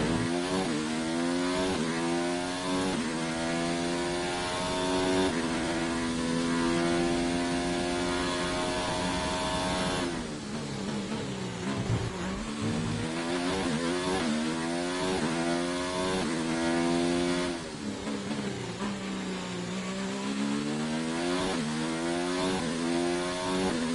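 Formula 1 car engine in the F1 2019 game racing at Baku, loud high-pitched whine sweeping up through the gears, dropping sharply under braking and climbing again, continuous throughout.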